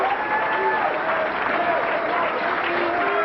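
Crowd applause at a 1997 bowling championship, a steady, loud wash of clapping with cheering and voices mixed through it.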